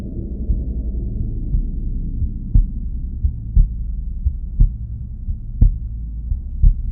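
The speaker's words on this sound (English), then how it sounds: "So now we can hear the heartbeat because we've got no health" A looping heartbeat effect for a video game's low-health state plays as regular paired thumps, about one beat per second, over a steady low hum, with no talk.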